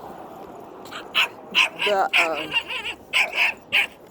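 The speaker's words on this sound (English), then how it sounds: "So that's the dog barking at me." A dog barks repeatedly at close range, sharp yips and barks in quick bursts mixed with a whimpering whine, while someone talks over it.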